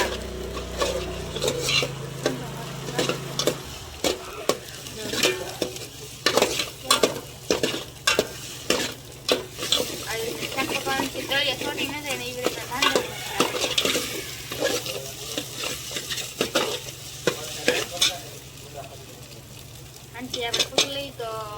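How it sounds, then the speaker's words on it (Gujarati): Egg curry stirred and frying in a pan: a steady sizzle runs throughout beneath repeated scraping, clinking spoon strokes against the metal, close and fairly loud, with no talking. "આ રીતના હલાવવાનું છે."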